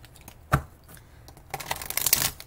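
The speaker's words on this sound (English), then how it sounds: "I'm going to go ahead and shuffle those back up." Tarot cards being shuffled by hand nearby: a soft tap, then a burst of quiet riffling and rustling clicks that builds into a denser flutter toward the end, with no talking.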